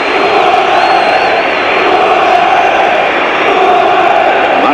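A home football crowd roars at a Championship match between Portsmouth and Ipswich Town, a broad sustained wall of cheering and chanting that holds loud and steady throughout.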